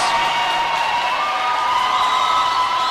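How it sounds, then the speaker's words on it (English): A hockey crowd at a high school varsity playoff game roars and jeers at the officials after a slashing penalty, a loud, sustained wash of cheering and whooping voices that fills the rink throughout. "has a little fun with the officials after there have been some costly or some questionable penalties going against them"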